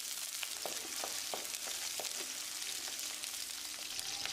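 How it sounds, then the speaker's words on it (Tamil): Small shallots sauté in hot oil in a pan for sambar, giving a soft, steady sizzle with scattered quiet crackles and pops and no talking. "1 கப் அளவு சின்ன வெங்காயத்தை சேர்த்து வதக்கிடலாம்."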